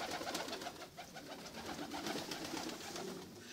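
Pigeons in a snowy loft in Ankara coo steadily in a soft, continuous chorus, several birds overlapping with low throaty calls.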